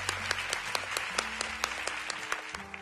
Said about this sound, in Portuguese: peço a todos um aplauso